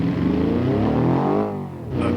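A custom odd vehicle's engine revs in BeamNG, a loud harmonic whine climbing and falling once, then dropping away before a brief return.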